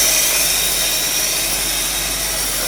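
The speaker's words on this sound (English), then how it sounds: "You can pretty much hear only the power steering pump running and the air cleaner sucking air." An idling 1956 Cadillac Sedan DeVille under restoration, its power steering pump running with a constant whine while the air cleaner draws air in a loud, steady hiss, heard up close with no talk.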